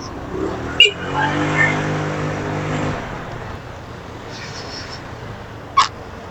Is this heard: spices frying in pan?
no